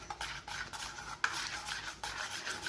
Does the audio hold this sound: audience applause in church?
no